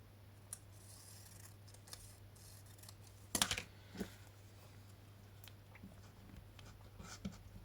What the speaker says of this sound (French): Je coupe encore.